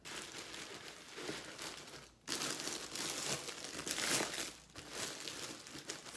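Crinkling and cutting of plastic wrap around a foam-lined box for a rose arrangement, close and moderately loud, in dense rustling bursts with a brief pause midway.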